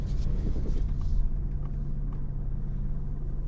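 A car creeps slowly during parking manoeuvres at a driving lesson, a low steady engine rumble heard from inside the cabin with faint clicks.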